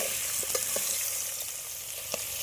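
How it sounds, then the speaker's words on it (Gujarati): Potatoes and peas fry in hot oil, a faint, even hiss of sizzling with a few soft stirring knocks, heard close and without any talk. "બટેટા તેલમાં થોડી વાર તતળાઈ જાય ત્યાર પછી આપણે વટાણા નાખવાના છે"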